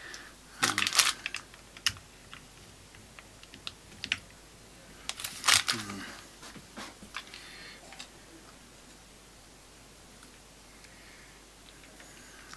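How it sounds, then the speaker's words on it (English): Small spare metal Allen keys clink and rustle in a packet during a setup of a Squier Stratocaster California series guitar: irregular light clicks and scrapes, with busier bursts near the start and again midway, otherwise quiet and without talk. "I'm going to have to go through my spare Allen keys packet over here"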